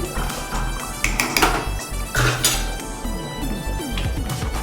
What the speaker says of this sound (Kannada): ರುಬ್ಬಿಟ್ಕೊಂಡಿರೋಂಥ ಮಸಾಲೆ ತಿರುಗಿಸ್ಕೊತಾ ಇದ್ದೀನಿ